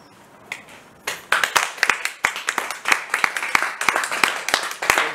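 Audience applause at a literary forum in Koper, a few scattered claps growing into steady, lively clapping from a crowd that continues to the end.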